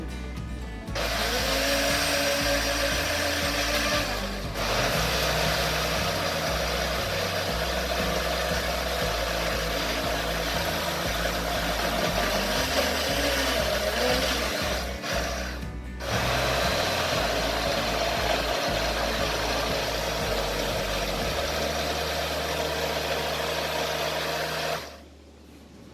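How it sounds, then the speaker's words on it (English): A blender whirring through pancake batter with cinnamon, a loud, steady motor drone running for nearly the whole stretch with brief dips in speed, then cutting off at the end. "let us blend."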